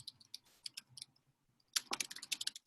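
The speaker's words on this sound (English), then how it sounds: "I'm just typing in the chat" Computer keyboard typing heard close and quiet, with scattered light key clicks followed by a quicker burst of keystrokes.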